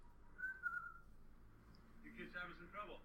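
A short, thin whistled tone drifts eerily near the start, faint and close, followed by quiet voices talking in a podcast room.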